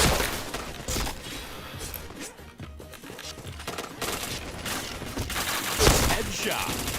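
Rapid bursts of video-game gunfire crackle through a shooter match, with loud volleys and a sharper crack near the end, no voices over them.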